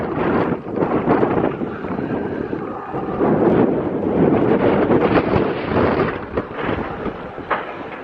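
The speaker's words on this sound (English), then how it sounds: "This is a little bit windy." Steady, heavy wind buffeting a microphone, a continuous rumbling roar with gusty swells throughout and no voices.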